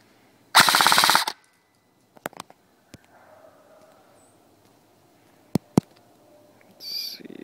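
Ignite Black Ops M4 Viper toy blaster shooting: a dense rapid burst of shots near the start, then a few sharp isolated cracks spread apart, with a brief hiss near the end.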